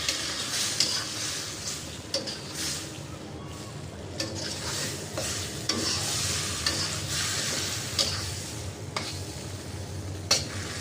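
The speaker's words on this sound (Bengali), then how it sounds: "এখন এই ট্যাংরা মাছগুলোকে মশলার সাথে মিশিয়ে নিতে হবে।" Tengra fish are stirred into spice masala in a pan, a continuous soft sizzle broken by repeated scrapes and clicks of a spatula against the pan, close and steady for about eleven seconds.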